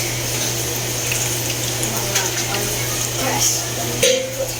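Chicken frying in hot oil in a pan while a little milk is added, a steady close sizzle with a low hum beneath and occasional clinks of a utensil against the pan.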